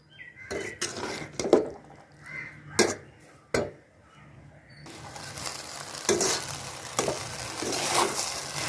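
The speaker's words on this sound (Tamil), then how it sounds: "அப்படியே கிளறி விடுங்க." Egg white spicy rice is stirred in a pan with a spoon, giving scraping strokes and clinks against the pan, then a steadier sizzle and rustle of rice being turned.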